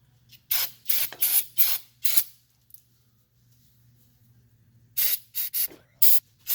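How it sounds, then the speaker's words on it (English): Brake cleaner sprays onto the threads of a cargo trailer axle during a wheel bearing repack, heard as a series of short, sharp hissing blasts in two clusters with a quiet pause between them over a low steady hum. "I blast it with the brake clean."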